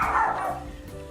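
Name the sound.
dog barking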